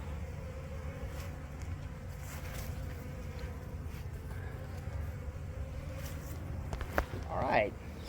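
Honeybees buzzing as a colony is cut out of comb under a shed floor and shaken into a hive, a steady low hum of many bees close by, with a brief louder burst near the end.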